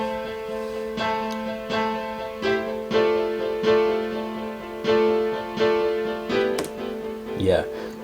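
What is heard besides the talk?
strummed synth chord progression with Valhalla Supermassive delay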